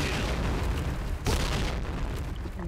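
A bomb blowing up in the shooter game Point Blank, a loud dense rumbling roar that swells into one sharp blast midway and then keeps booming.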